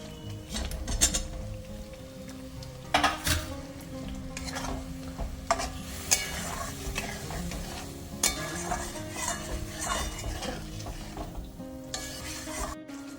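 Potatoes sauté in a pan for a vegetarian aloo dum, with a constant sizzle under frequent stirring scrapes and occasional metallic clinks of utensil against pan, close by and without speech.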